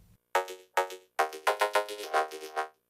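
Choppy bursts of a buzzy, robotic vocoder driven by an analog synth carrier, rhythmic phrases with clear gaps, electronic and up front.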